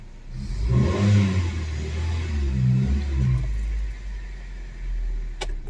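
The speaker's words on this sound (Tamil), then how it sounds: "இப்போ இன்ஜின் ரன்னிங்கில் இருக்குது." A Hyundai i10 or i20 petrol car with an ECM fault runs and revs, its engine rising and falling in a steady close rumble with no talk over it.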